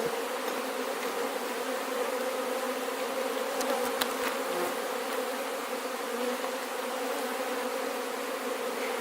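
Honey bees swarm around an open hive with a dense, steady buzz close by, unbroken throughout, a few faint clicks in the middle and no talk.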